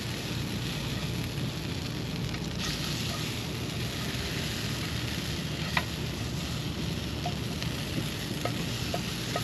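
Food sizzles steadily in a frying pan over a camp stove at a Florida car-camping site while it is stirred and tossed, with soft scrapes and crackles over the constant hiss, no voices.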